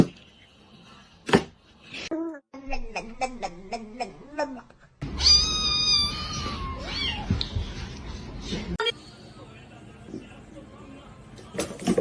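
A cat shut inside a kennel meows repeatedly in a run of short, rising cries, then lets out a louder drawn-out yowl, with people talking and reacting nearby.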